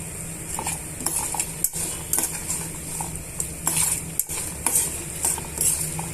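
Fenugreek seeds and tamarind being stir-fried for pickle, a metal spoon scraping and clinking against the pan in irregular strokes over a soft sizzle, close and fairly steady with brief pauses.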